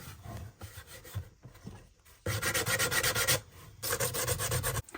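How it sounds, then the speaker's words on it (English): Sandpaper rubs by hand across a thrift store tray in uneven bursts of scratchy abrasion, close and moderately loud, with brief pauses between passes and no talking. "I'm just using a little sandpaper too to help the process along."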